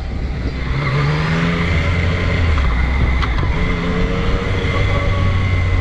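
A 2020 Yamaha MT-09 motorcycle is ridden with a steady, loud engine drone and rising pitch as it accelerates, with continuous wind and road noise throughout.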